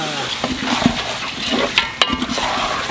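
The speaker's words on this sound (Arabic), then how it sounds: "ونقلبه مع البصل والبهارات والكشنه بتقلب بالقفشه" Onions and spices are stirred with a ladle in a hot pan for Kuwaiti machboos, a close sizzle under a few sharp scrapes and knocks over a few seconds.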